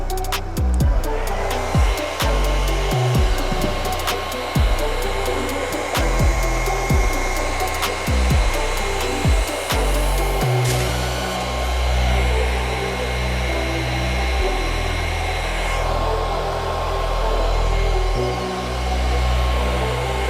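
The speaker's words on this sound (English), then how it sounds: "then we can move it around with the air from the blow dryer" A blow dryer blasts a steady, loud rushing stream of air across wet epoxy resin, close to the mic, with the motor's pitch shifting a few times as it is moved around and repositioned.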